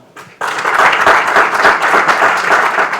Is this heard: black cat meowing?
no